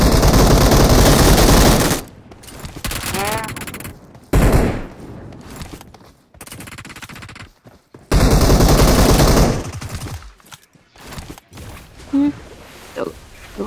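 Bursts of automatic machine gun fire in a first-person shooter game, loud rapid volleys separated by pauses, with players talking over the shooting.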